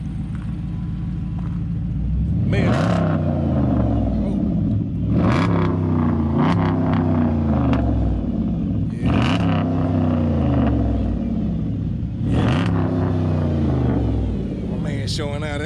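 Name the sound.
Dodge Challenger 6.1 Hemi V8 starting and revving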